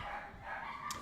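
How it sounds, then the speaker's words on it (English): Short, noisy burst of dogs barking at a distance, faint and indistinct under a steady hiss, with no speech. "Dogs."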